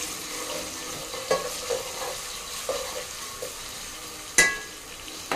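Ginger garlic paste is stirred into vegetables frying in a pan for a vegetable dum biryani, giving a low sizzle with scattered soft scrapes of the spoon and one sharper clink near the end.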